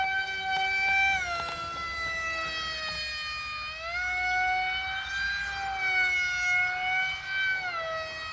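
An RC HalfPipe Delta plane's electric motor runs at full throttle with a loud, close, steady high-pitched whine, its layered tones sliding up and down in pitch as the power shifts, with no talking.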